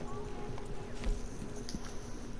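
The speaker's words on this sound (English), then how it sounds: "I'm gonna hop on my horse." Horse hooves clip-clopping in a video game: a steady, fairly quiet patter of hoof steps running under faint background noise and hum.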